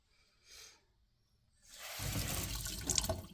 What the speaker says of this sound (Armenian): վեր տանում ենք հոսող ջրի տակ լվանք։